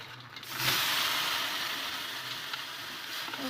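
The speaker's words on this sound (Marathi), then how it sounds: "आता आपण यात पाणी टाकूया" Water poured into a hot kadhai while making Maggi, giving a steady close sizzle and hiss with steam that holds for a few seconds after a sharp start.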